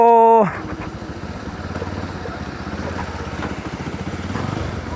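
A motorcycle engine putters steadily with a rough, rhythmic chug as it rides a rough road, after a brief tonal beep at the start; close and moderately loud.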